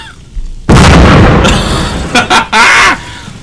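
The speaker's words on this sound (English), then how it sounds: "There's just so many bombs!" Bombs detonate in rapid succession in the video game Beast Battle Simulator, a sudden loud boom followed by several sharp, overlapping blasts, with a voice shouting among them.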